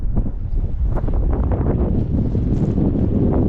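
Strong wind buffets the microphone at a winter fishing spot, with a continuous low rumble and gusty roar, steady and loud throughout.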